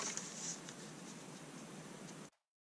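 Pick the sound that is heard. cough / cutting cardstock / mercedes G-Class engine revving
cutting cardstock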